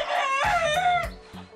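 A Polish chicken, the crested Dutch breed, gives a loud, close, drawn-out squawking call followed by a few shorter clucks.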